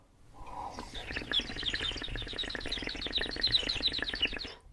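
Someone imitates a bird by tweeting with water held in the mouth, producing a rapid, burbling run of high chirps and trills close up after a brief wet lead-in.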